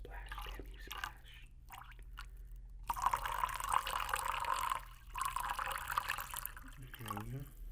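Water splashing close to binaural mannequin-head microphones, starting with small drips and wet mouth-like sounds, then a louder, sustained splashing burst through the middle and a second spell of splashing afterward.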